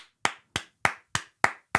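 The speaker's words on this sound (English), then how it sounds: "a little round of applause from the B-man to you for stepping up to your friend" A single pair of hands claps six times in a slow, even rhythm, close and crisp, with silence between the claps.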